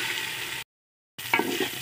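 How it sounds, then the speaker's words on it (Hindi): Rice frying in a pan for payesh (kheer), a steady dense sizzle close by that cuts out briefly, then resumes with a few stirring scrapes and pops. "थोड़ा सा फ्राई हो जाए तो चावल फ्राई"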